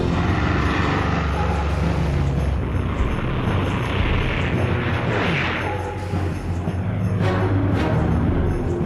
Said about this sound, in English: Nasser hears planes in the skies above Cairo